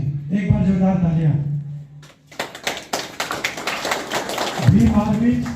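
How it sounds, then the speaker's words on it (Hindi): An audience bursts into a short round of clapping at the inauguration of a free medical check-up camp, the applause arriving between stretches of someone speaking over a loudspeaker. "एक बार जोरदार तालियां।"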